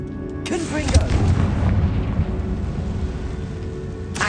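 A Confringo fire spell bursts in the video game Hogwarts Legacy, landing as a loud, deep boom with a rumbling tail that fades over several seconds, followed by another sharp hit at the end.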